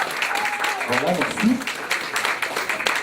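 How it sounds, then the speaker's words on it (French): An audience at a democracy day event applauds, a bright patter of clapping running underneath a person speaking a few brief words. "Moi, j'applaudirais ça"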